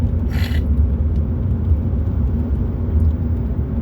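A car drives along a road, making a steady low rumble and road roar inside the cabin, with a brief faint higher whir near the start.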